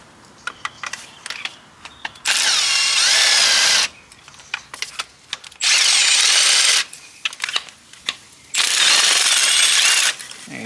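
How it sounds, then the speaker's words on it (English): An impact wrench on an extension loosens car spark plugs in three loud, sustained bursts of whirring and rattling, separated by brief pauses with light clicks and handling noises close by. "Next, grab your impact with another extension. Make sure it's loosening."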